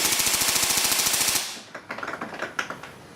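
Tokyo Marui M4A1 Socom airsoft gun firing a rapid full-auto burst, a fast even mechanical rattle of shots for about a second and a half, followed by quieter clicks and handling noises.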